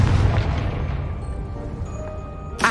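A Confringo fire spell explodes in the video game Hogwarts Legacy with a loud, deep boom that rumbles and fades over a couple of seconds, then a sharp burst cuts in at the very end.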